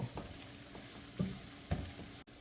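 Coriander powder fries in hot oil, a soft, low sizzle with a few gentle stirring taps at irregular intervals. Quiet and close, with no talking.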